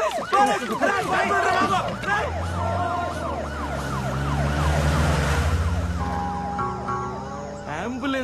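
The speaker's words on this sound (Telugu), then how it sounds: "అంబులెన్స్ రా" An ambulance siren wails in repeated rising and falling sweeps, loud and nearby, mixed with traffic noise and bursts of overlapping voices.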